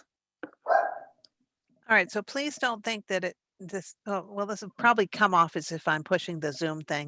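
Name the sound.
dog barking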